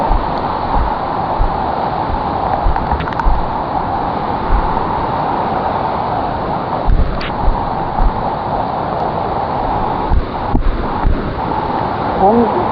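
A river rushes loudly and continuously along Kennon Road after a landslide, a broad steady roar with gusty wind buffeting the microphone now and then.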